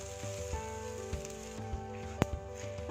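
Fennel, pepper and curry leaves roasting in a pan over low heat give a soft, steady sizzle with faint scattered pops and ticks, fairly quiet and close, with no voices.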